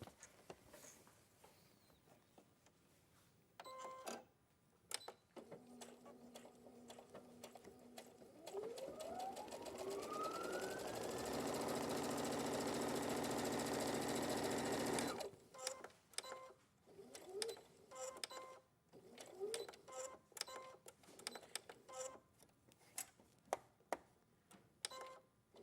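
Sewing machine stitching a rectangle of pocket lining, running in short bursts and then one long steady whirring run of about five seconds, close and quiet, with faint clicks and handling noise between runs.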